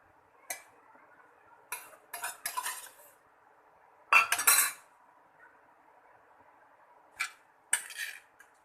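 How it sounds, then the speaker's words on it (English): Soaked thick poha for dosa batter is moved into a mixer jar, giving a few sparse clinks and scrapes of a spoon against the jar, quiet and close with gaps of near silence between. "First I am transferring soaked thick poha to mixer jar."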